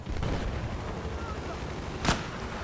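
Gunfire in the Battlefield 4 multiplayer Rush mode, a low rumbling battle din with one sharp shot standing out near the end, no speech over it.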